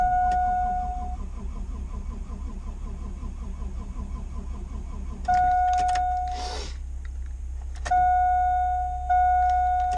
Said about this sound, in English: Trying to get the fuel pump running here. Get the fuel moving.